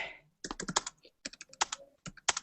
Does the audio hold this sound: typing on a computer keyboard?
yes